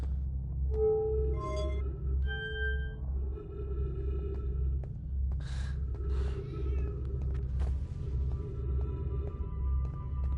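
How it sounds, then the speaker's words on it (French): House cats meowing repeatedly in short yowling bursts at close range while they fight, over a steady low electronic hum from a video game playing in the background. "si vous entendez des miaulements, c'est normal, mes chats se battent à côté de moi"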